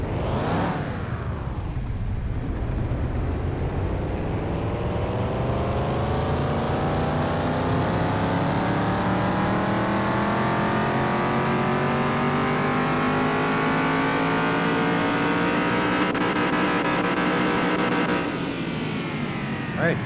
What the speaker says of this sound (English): Let's move you over to the dyno. Let's make sure everything is in good order. Start the dyno.